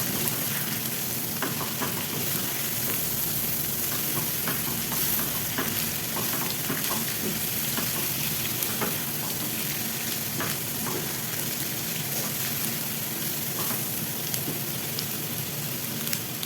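Chopped green, yellow and red capsicum sizzle steadily as they are stirred in a frying pan for a spicy chicken wrap, with a constant loud hiss broken by light scraping strokes of the spoon.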